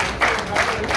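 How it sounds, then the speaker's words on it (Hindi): An audience applauds a newly installed Lions Club team at an installation ceremony, producing a brief, dense burst of crowd clapping. "जोरदार तालियां हमारी इस पूरी टीम के लिए।"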